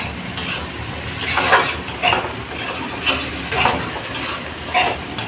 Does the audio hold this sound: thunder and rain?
no